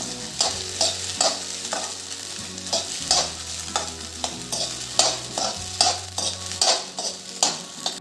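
Soaked sabudana (sago pearls) sautéed in ghee in a pan for sweet sabudana khichdi, a spatula scraping through it in steady repeated strokes over a soft continuous sizzle, close and fairly loud with no voices.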